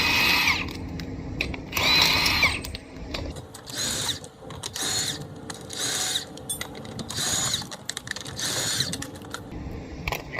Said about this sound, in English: I'm gonna use my impact drill. This is gonna have a 21mm socket on it.